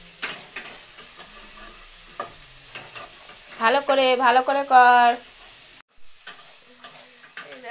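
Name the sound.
stirring fried rice in a pan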